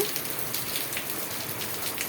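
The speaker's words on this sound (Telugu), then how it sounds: "చూడండి ఎట్లా వస్తుందో వాన." Dense, steady downpour of heavy rain hissing on surfaces, close and loud throughout with no voices.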